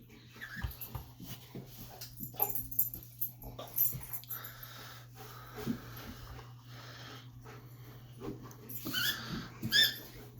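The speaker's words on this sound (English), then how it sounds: "Excuse the squeaking, my dog has his favorite squeaker toy." A dog chews a favourite rubber squeaker toy indoors, giving repeated sharp squeaks and snuffling bursts at irregular intervals over a steady low background hum.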